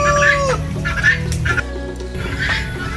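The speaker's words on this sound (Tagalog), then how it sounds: "Yung manok." Chickens cluck close by in a rural yard, a run of short throaty calls with a few rising squawks over steady outdoor background noise.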